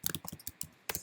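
A computer keyboard being typed on in a short burst of several crisp, close key clicks with small gaps between them, ending in a louder final cluster.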